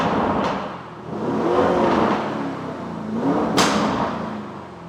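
Twin-turbo V8 sports sedan with exhaust in Corsa mode, two rising revs swelling and falling, with a sharp crack at the start and another near the end, close by.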